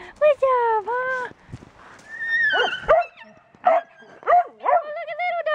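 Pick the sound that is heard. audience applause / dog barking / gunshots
dog barking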